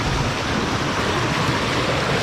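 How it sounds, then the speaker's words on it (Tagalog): Strong mountain stream water rushing down from the hills, a steady loud broadband roar with no pauses, heard up close and alone without voices. "yung tubig na nanggagaling sa bundukan malakas na"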